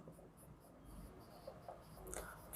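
Marker or chalk writing on a board during a maths lesson on discontinuous functions, a faint, soft scratchy stroking sound of intermittent short strokes, quiet and close, with a slightly louder scrape at the end and no voice.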